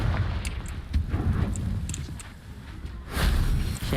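Confringo blasting spell from a video game exploding in a low, rumbling burst, a sustained boom with crackling debris, swelling again into a second heavy blast near the end.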